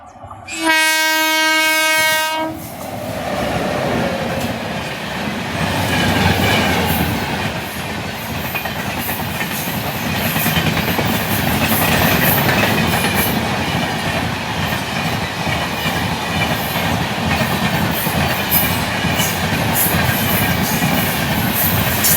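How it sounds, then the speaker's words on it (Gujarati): A train horn blares loudly, then the train rumbles past close by with a sustained roar and rhythmic clatter of wheels on rails. "રેલગાડી આવવાનો સમય થઈ ગયો છે"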